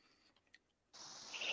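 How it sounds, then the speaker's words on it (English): Cicadas buzz outdoors in a dense, hissing drone that swells in abruptly after near silence and rises in loudness, fairly close and alone without speech. "Can you hear the cicadas where I am?"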